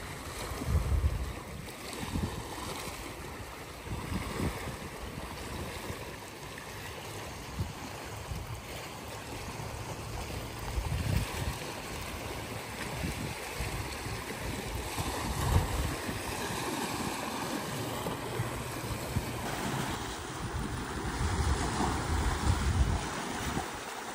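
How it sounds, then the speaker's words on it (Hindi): Waves wash and surge steadily along Pelangi Beach on Langkawi island, mixed with gusty wind buffeting the microphone, with no one speaking. "और ये प्यारी सी पानी की आवाज़ सुनते हैं शांत होके थोड़ी देर."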